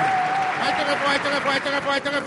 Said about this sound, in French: Est-ce qu'on peut applaudir pour la paix en Côte d'Ivoire?